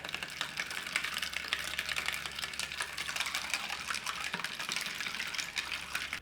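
A spoon stirs honey into a cocktail mixture in a glass, giving a steady, close liquid swishing and clinking that runs without a break and without talk.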